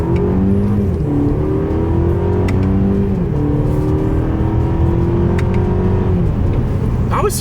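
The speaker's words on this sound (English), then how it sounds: "let's see how quickly we can get this one here up to speed" A Mercedes-Benz CLE 300 coupe accelerates hard in sport mode along a straightaway, its engine loud and close inside the cabin, rising in pitch through several gear changes that drop and climb again.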